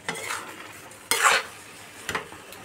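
Mashed cabbage bharta with prawns is mixed with a little mustard oil, giving close, moist scraping and stirring sounds in three short strokes, the middle one loudest, with no talking.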